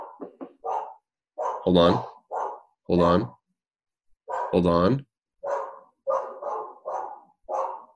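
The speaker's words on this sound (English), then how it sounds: "There's barking happening." A dog barks a few times indoors, sharp and fairly close, mixed in with people talking.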